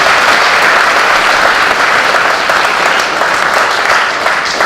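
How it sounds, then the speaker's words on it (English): A hall audience at a high school distinguished graduate ceremony breaks into a round of loud, dense clapping that holds steady for a few seconds, with no voices over it. "let's give them a round of applause"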